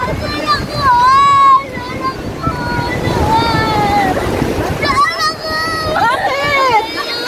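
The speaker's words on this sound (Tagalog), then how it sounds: "So, ang lalaki ng alon." Big ocean waves surging at a beach, broad washing roar with wind buffeting the microphone, while voices talk and call out excitedly over the surf throughout.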